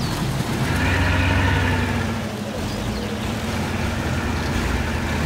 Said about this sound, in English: Right, start the engine again.